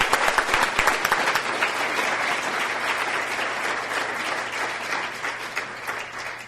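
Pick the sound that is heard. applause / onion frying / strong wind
applause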